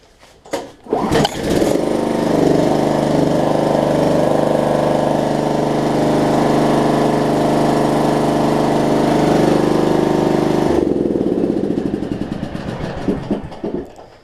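A riding lawn mower's engine cranks briefly, catches and settles into a loud, steady running drone close by, then cuts off and winds down near the end.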